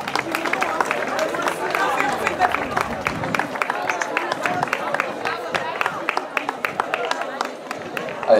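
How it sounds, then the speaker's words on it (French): A crowd at a girls' youth football team presentation breaks into sustained applause for PSG, dense clapping with cheers and chatter mixed in throughout. "un tonnerre d'applaudissements"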